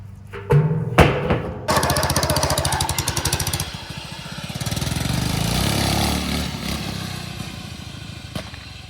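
A modified lawn mower engine on a homemade track around an old dilapidated shed runs loud and close, with sharp bangs early on before settling into a steady, rapidly pulsing roar that rises and falls.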